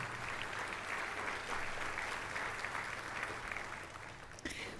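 Audience applause at a community foundation awards ceremony, a fairly distant, even roar of many hands clapping that carries on steadily, with a low hum underneath.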